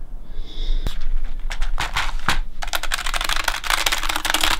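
Keys clacking on a new tactile computer keyboard, a few scattered presses at first and then a fast, dense run of typing, close and fairly loud.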